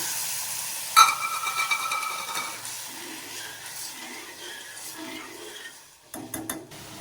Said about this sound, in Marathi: छानपैकी आता उकळी आलेली आहे